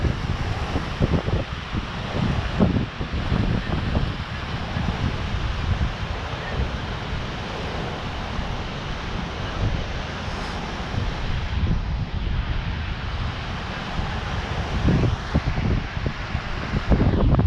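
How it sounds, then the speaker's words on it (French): Waves breaking at a small surf spot near a harbour on Isla de Lobos, a steady roar of surf mixed with gusty wind buffeting the microphone, with no voices. "C'était juste pour vous montrer le petit spot là, les vagues."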